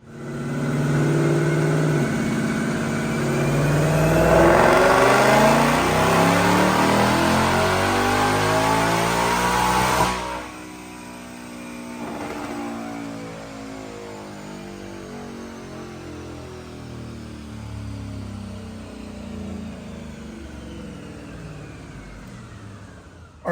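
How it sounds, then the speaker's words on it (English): A 2024 Ford Mustang automatic fitted with a Roush Phase 2 supercharger on a Dynojet dyno, engine roaring loud and rising through a full-throttle pull for about ten seconds, then lifting off and coasting down with a lower, fading drone. "check out this dyno pull"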